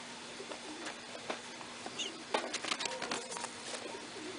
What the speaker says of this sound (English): This one right here, of course, is not a homer. This is another Oriental frill.